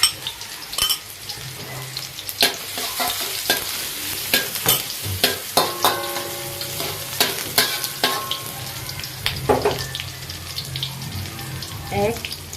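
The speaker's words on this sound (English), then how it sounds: "stir fry the garlic and the shallot" Garlic and shallot stir-fried in a pan, sizzling steadily while a spatula scrapes and clatters against the metal in repeated strokes, close and fairly loud.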